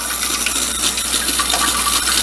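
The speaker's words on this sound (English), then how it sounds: "it's again starting to spray some water" Steady hiss of an Alpha Bidet JX nozzle spraying water continuously at close range, with a bright splashing texture and no voices.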